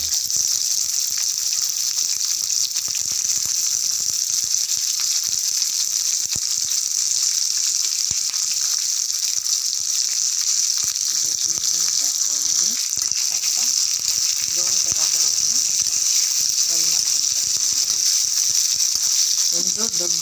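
Chopped onion with cinnamon sizzles steadily in hot oil, a loud, continuous crackling hiss that goes on throughout, with a voice talking over it in the latter half.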